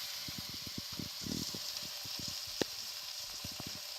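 Salmon fillet frying in melted butter in a pan, a quiet steady sizzle with small crackling pops and bubbling bursts spread across a few seconds.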